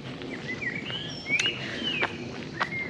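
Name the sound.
birds singing in the morning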